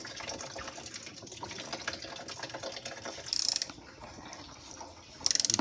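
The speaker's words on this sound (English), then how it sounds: "let's get started with draining that coolant. It's just a threaded plug." A threaded coolant drain plug on a Toyota Supra is loosened with clicking ratchet strokes, then trickling liquid, with two sharp bursts of rapid metallic clicks standing out.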